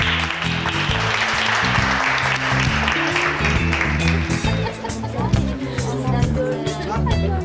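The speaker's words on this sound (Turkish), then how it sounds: "Alkış!" A studio audience breaks into steady, dense applause at the opening of a comedy show, sustained and fairly loud throughout, with music playing underneath and scattered crowd noise mixed in.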